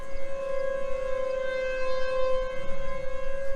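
A civil defense siren sounds with a steady, sustained tone that holds evenly from start to finish, moderately loud, with no voices.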